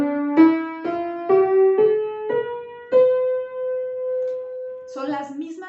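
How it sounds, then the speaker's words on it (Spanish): A major scale played on a melodic, sustained-tone instrument, six rising notes in a steady rhythm ending on a long held tone, close and clear, with a voice starting to speak just after. "Contrario a cómo suena la escala mayor,"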